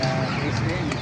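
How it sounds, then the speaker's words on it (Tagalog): Racing pigeons at an animal market in Baliuag coo softly in a crowded cluster, their low murmuring calls mixed with a voice talking nearby. "tayong pangarera kalapati oh"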